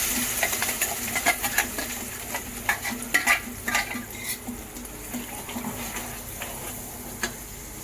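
Ground Malvani masala spices fry in oil for a mackerel curry, giving a continuous soft sizzle broken by repeated scraping and stirring clicks from a spoon in the pan.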